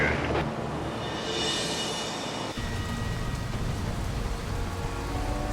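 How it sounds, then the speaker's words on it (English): Rain falls steadily on a road in British Columbia, a dense continuous hiss with a lower rumbling wash that thickens partway through, no voices over it. "Back in the rain in BC"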